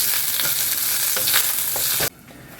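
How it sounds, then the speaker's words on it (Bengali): Pumpkin pieces fry in a wok while a spatula stirs them: several scraping strokes over a loud oily sizzle, close by, before the sound drops sharply near the end. "এবারে এই খুন্তি দিয়ে নাড়তে হবে"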